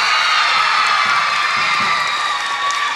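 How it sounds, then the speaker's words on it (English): A school assembly audience cheers and applauds together, a loud, steady wash of clapping, whoops and children's shouts filling a large room. "give yourselves a big round of applause"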